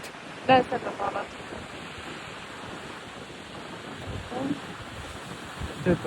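Ocean waves heard from a boat on a whale-watching trip, a steady wash of surf with wind buffeting the microphone and brief voices breaking through.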